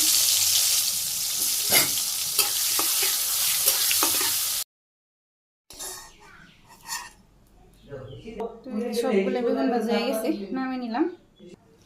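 Brinjal pieces frying in hot oil make a loud, steady, close sizzle for several seconds. After a short silence, a voice speaks over quieter kitchen sounds.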